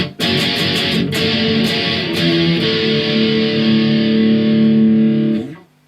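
Loud distorted electric guitar plays the closing notes of a song, strummed chords near the start and then a sustained ringing final chord that cuts off abruptly, with no talking.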